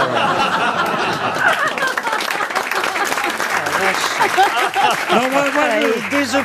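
Studio audience at a French radio-TV comedy panel applauds with scattered laughter and chuckles, while voices talk over the clapping and crowd murmur, fairly loud and close.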